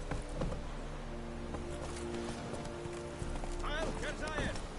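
Roach the horse gallops with rhythmic clip-clop hooves in The Witcher III, steady and moderately close, while a voice speaks over the hoofbeats.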